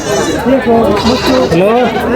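Several goats bleat loudly and close by in a busy village livestock market in Bangladesh, repeated wavering cries overlapping with crowd chatter throughout.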